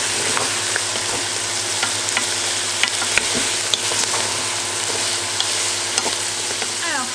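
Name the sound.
frying bacon lardons and onions in a pan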